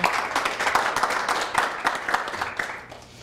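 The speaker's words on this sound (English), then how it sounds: "Again, clapping before." An audience at a lecture claps to welcome a speaker, a dense, even patter of many hands that carries on throughout and tapers off slightly at the end.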